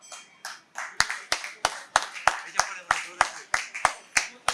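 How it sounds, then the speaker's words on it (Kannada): Rhythmic clapping in steady unison beats, roughly three per second, to cheer on children at a Ganeshotsava prize announcement, with an announcer's voice talking between and under the claps. "ಚಪ್ಪಾಳೆಯ ಮೂಲಕ ಪ್ರೋತ್ಸಾಹ ನೀಡಬೇಕಾಗಿ ಕೇಳ್ಕೊಳ್ತಾ ಇದ್ದೇವೆ."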